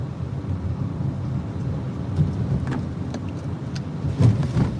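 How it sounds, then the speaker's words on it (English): Steady low rumble of a car driving, heard from inside, with road noise and a few faint knocks and rattles throughout. "I'll park the car"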